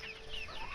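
A blue Andalusian hen gives a short, soft burst of chattering clucks close by among young backyard chickens, faint and alone.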